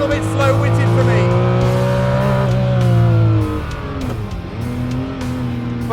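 A Ferrari F40 or F50 engine revs hard toward 8,500 RPM while driving, a loud sustained rising howl that drops off as the throttle lifts, with no talk over it.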